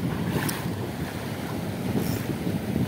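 Strong wind buffeting the microphone on a fishing boat at sea, a loud, continuous low roar and rumble with water noise beneath, unbroken for the whole stretch.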